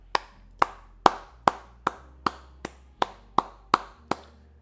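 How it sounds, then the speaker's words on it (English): Eleven sharp hand claps ring out alone in a steady, evenly spaced rhythm, each one close and crisp with a short decay. "we gotta start it off with a hand clap"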